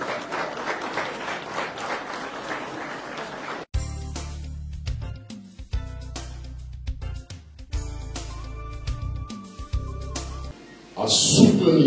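Applause and crowd noise at a political rally in Kinshasa supporting Tshisekedi's candidacy, a dense sustained clapping that cuts off abruptly, giving way to loud amplified music with a heavy bass pulse and a burst of cheering at the end.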